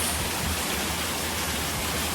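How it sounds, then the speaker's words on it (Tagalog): Heavy rain pours down without pause, a loud, dense, steady hiss that fills the short stretch with no voices. "ang lakas ng ulan"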